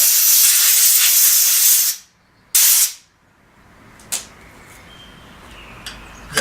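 Compressed air blasts through the bar groove of a chainsaw during home maintenance, two loud hissing bursts, the first about two seconds long and the second shorter, followed by a few faint clicks and short puffs.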